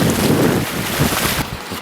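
River water rushes during a river crossing on a South Island West Coast chamois hunt, a loud broadband wash mixed with wind buffeting the microphone, steady then easing slightly at the end.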